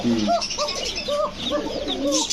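A male pigeon with a thin, high voice coos in a quick run of four or five rolling, close calls, with faint background hiss and no talk.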